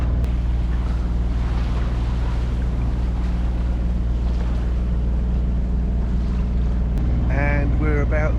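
A sailboat motoring offshore under engine on a windless day, the steady low drone of the motor running loud and unbroken throughout, with hull and water wash over it; a voice speaks briefly near the end.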